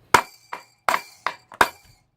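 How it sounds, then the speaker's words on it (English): Five sharp metallic hammer blows on a GY6 scooter brake shoe anchor pin during a 180cc power kit install, spaced unevenly and ringing briefly, close and loud with no talk. "Give it another hammer."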